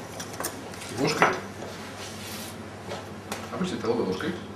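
A metal spoon scrapes the soft flesh out of a halved roasted eggplant, making short scooping and scraping sounds with clinks against a dish and brief speech in between.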